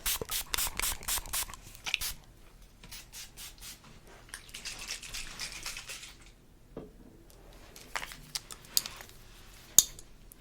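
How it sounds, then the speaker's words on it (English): A pump bottle of heat protectant sprays onto a section of hair in quick close-up bursts, a row of rapid spritzes at first and then more scattered, soft and up close in a quiet ASMR setting with light rubbing between sprays. "I will also put some damage spray on this piece"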